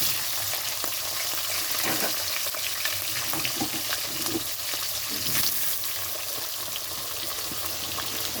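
Potatoes added to hot oil with cumin and green chilli fry in a pan. Throughout, a loud, close, continuous sizzle carries scattered pops and crackles and one brief stir, with no voices.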